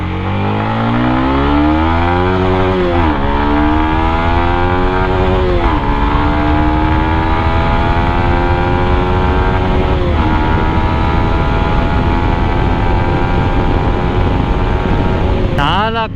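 Yamaha MT15 motorcycle accelerating hard through the gears. The loud engine climbs in pitch, drops briefly at each shift, climbs again, and carries on at high revs with the droning whine up close.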